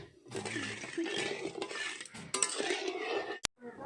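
Sugar stirred in a metal kadhai to make syrup for amla murabba, with a ladle scraping and clinking against the pan in quick, continuous strokes, close and fairly loud, ending in one sharp metallic knock.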